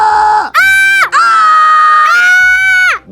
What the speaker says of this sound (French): Viens, on fait un concours de cris tous les deux.